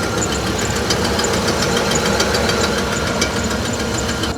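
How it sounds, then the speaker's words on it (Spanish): Car engine misfiring on cylinders 1 and 8, running rough and uneven with a steady knocking throb and valve tapping, heard close and continuous with no talking. "escuchen el motor como se ve, está fallando"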